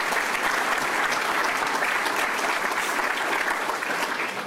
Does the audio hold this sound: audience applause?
yes